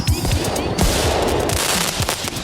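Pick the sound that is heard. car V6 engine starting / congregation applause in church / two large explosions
two large explosions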